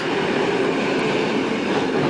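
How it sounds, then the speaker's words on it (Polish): Train pulling out of Gliwice station, heard from inside as a loud, steady rumbling roar of rail noise with no talking. "odjeżdża nam nasz pociąg"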